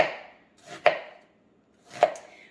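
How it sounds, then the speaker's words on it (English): A knife chops through an onion on a cutting board in a home kitchen, three crisp close-up strikes spaced about a second apart, with no talking. "First thing I'm gonna do is get my onion cut up."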